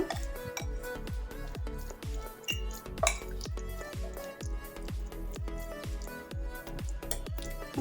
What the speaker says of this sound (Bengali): এখন আমি চিকেনটা একটু মেখে নেব।